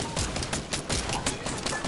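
Rapid bursts of gunfire in a PS4 video game, sharp repeated shots crackling in quick irregular succession, fairly loud and close with no speech over them.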